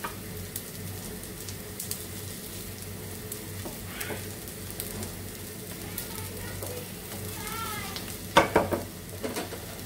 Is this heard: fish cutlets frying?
yes